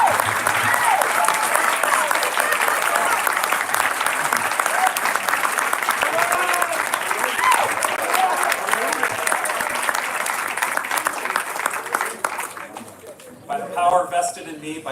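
A crowd applauds at a 2022 graduation ceremony, steady dense clapping from many hands that tapers off toward the end, where a voice briefly speaks.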